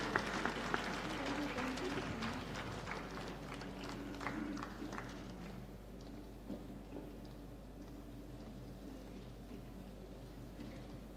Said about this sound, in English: So give a big round of applause to Sunita Reddy.